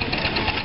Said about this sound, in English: Oh wait, that's a push mower engine.